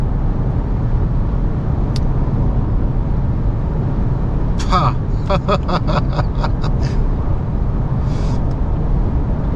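A 2025 Isuzu D-Max X-Rider 1.9 automatic cruising on the road gives off a loud, steady low engine and road drone from inside the cab, with a short run of quick clicks midway.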